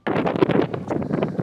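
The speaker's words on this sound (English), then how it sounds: "It's blowing a gale." Heavy gale-force wind buffeting the microphone outdoors beside a 2018 BMW X5 30d, a loud continuous rumbling roar with gusty bursts throughout.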